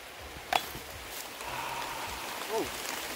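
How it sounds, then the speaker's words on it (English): Rain falls outdoors in a steady, soft wash, with a sharp tap near the start and faint bird-like chirps above the continuous patter. "Beautiful rain."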